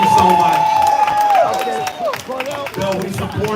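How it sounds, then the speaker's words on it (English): An audience at a Harlem community tribute claps and cheers for Bill Perkins, a dense close burst of applause with whoops that thins out, mixed with crowd voices. "giving a rousing round of applause for the great Bill Perkins"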